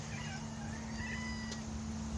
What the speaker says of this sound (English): Our new cat, Benji.